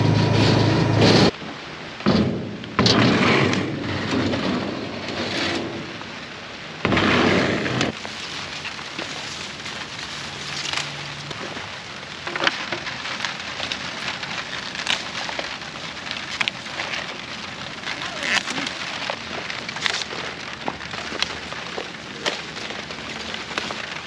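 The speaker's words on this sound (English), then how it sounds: "It is now raining here on the farm." Steady rain falls on a vegetable farm during the pepper harvest, a dense, continuous hiss, loud and close, with a few irregular knocks and bumps early on.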